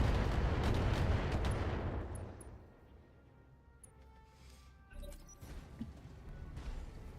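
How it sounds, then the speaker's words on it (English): Giant mechs trade heavy fire in the BattleTech strategy game, with a loud rumbling barrage that fades into quieter ambience before several sharper impacts and shots return near the end. "They're shooting at each other, finally."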